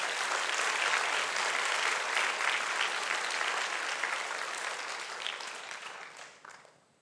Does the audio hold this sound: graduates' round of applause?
yes